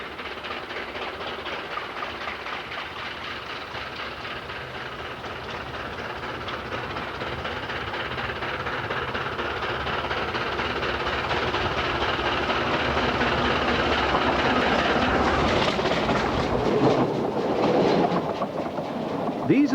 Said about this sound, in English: the two locomotives are storming round the sinuous curves almost at their full 20 miles per hour